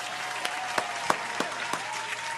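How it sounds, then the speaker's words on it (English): Steady applause from a crowd fills the clip, with several louder individual claps standing out at irregular intervals. "You get another round of applause."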